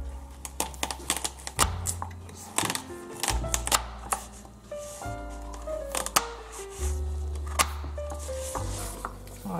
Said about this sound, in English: Carrot and parsley I will cut